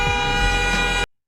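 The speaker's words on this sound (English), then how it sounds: "now that honking is obnoxious" A loud, blaring truck horn sounds in a single sustained blast of about a second, then cuts off abruptly.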